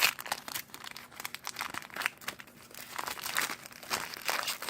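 A plastic blister pack of baseball cards is pried open up close, giving continuous crinkling and crackling plastic with brief tearing bursts, with no voices.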